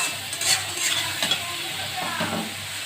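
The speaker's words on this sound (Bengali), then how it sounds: "এরপর আমি কিছুক্ষণ এটা কষাবো।" Spice paste for fish head curry being stirred and fried in a pan, with soft continuous sizzling and repeated scraping strokes of a spoon, close and fairly quiet with no talking.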